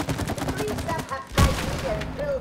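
Rapid shooting in the It Takes Two video game, a quick stream of shots that ends in one heavier blast, with voices talking over it.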